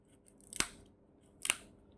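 Scissors snipping through plastic gift packaging: two crisp, close cuts about a second apart in an otherwise quiet room.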